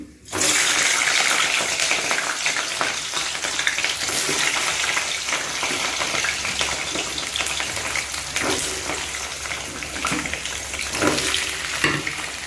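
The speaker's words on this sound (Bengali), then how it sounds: "এই সাইডে আমি মুগ ডাল ভাজছি" Mung dal frying in a pan gives a loud, steady sizzle throughout, with occasional scrapes of stirring.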